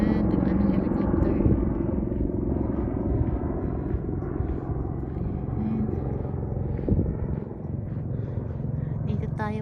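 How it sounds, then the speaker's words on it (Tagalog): An ambulance helicopter passes overhead during an outdoor walk, a continuous loud rotor thrum and rumble throughout, with people talking over it. "background tayo na helicopter. Ambulance yata yun."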